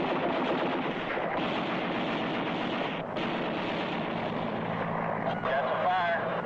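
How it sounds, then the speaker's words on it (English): Gunfire in a combat scene from a 1966 war film, a dense ongoing clatter of shots beneath helicopter or aircraft noise, with voices talking over it throughout. "we're taking a little fire back here"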